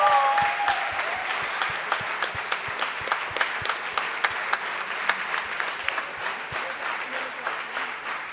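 Applause from the audience at a valedictory function, a sustained, even wash of many hands clapping that holds steady for several seconds and slowly tapers.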